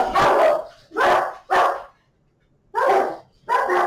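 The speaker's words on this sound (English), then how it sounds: "Just wait for my dogs to stop barking." A dog barks in loud, close bursts: three quick barks, a short pause, then two more.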